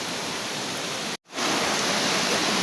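Steady, dense roar of Paraiso Falls in Ibahay, loud and close, rushing without pause apart from a brief cut near the middle.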